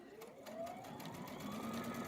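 A sewing machine runs continuously as it stitches a black fabric strip onto the side of a strip table runner, a close, steady motor whir with rising pitch as it speeds up.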